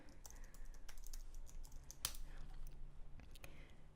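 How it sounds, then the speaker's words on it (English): Someone types a domain name on a computer keyboard in a quiet room: light, irregular keystrokes with a few sharper clicks, heard close and alone. "So in GoDaddy, I will start typing the name of the domain that I want."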